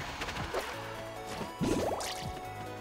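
Orcane's bubble attacks in the fighting game Rivals of Aether, a few quiet watery bloops and rising bubbly chirps scattered over a faint game soundtrack.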